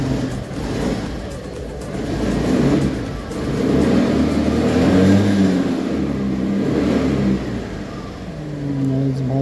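A car engine rumbles and revs in rising and falling surges close by, in city traffic, with a voice talking over it.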